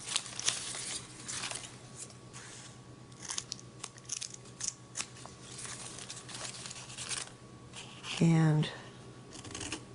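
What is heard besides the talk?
scissors cutting folded paper star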